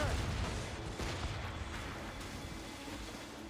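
Ship cannons firing in the video game Assassin's Creed Rogue, a dense rumbling broadside of booms that fades into a continuous low roar, with no voices.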